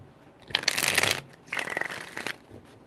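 Tarot cards being shuffled by hand in two separate bursts of rapid riffling, close and clear, with a short pause between them and no talking.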